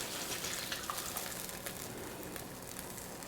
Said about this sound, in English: I'm going to take the rest of these juices and put them in my pan here.